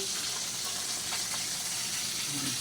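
Tilapia frying in a pan of oil, a constant close hissing sizzle with a dense even crackle and no breaks, no voices.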